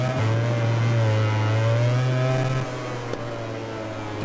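Honda motorcycle engine in MotoGP 20, a steady droning whine holding at high revs, then dipping slightly in pitch, loud and continuous with a brief click near the end.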